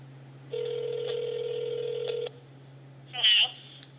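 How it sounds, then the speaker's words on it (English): A telephone on speakerphone places a call, a steady dial tone held for a couple of seconds followed by a short burst of dialing or connection tones, with a faint voice nearby. "Do you want to just see if we can get her on the phone?"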